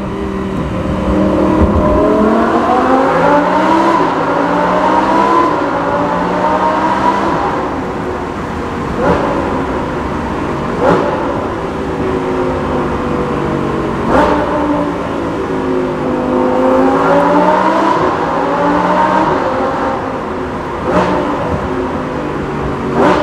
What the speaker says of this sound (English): What you just heard is the Kline Innovation Inconel exhaust system for the Lamborghini